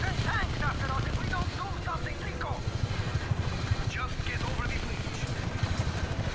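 A helicopter flies in the video game Just Cause 3, its rotor and engine making a constant low, chopping rumble beneath a person talking.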